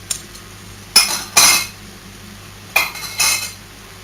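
A spoon stirs salt, cumin, pepper, a small spoonful of harissa, garlic and lemon juice into kefta meat in a bowl, making four bright clinks in two close pairs against quiet background, with no talk.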